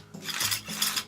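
A retractable ratchet strap winds back in with a quick mechanical whir and clicking pawl, a couple of close, brisk bursts, with no talking.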